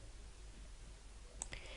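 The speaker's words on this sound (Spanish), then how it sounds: "Es hacer clic en el botón Select" A computer mouse button clicked while working in Edraw flowchart software, one or two faint, sharp clicks close together against quiet room noise.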